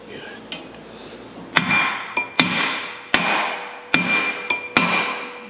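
A hammer tapping a pin on a tile plow behind a Hyundai HT100V compact track loader, with six or seven sharp metallic knocks at a steady rhythm, each ringing briefly, close by.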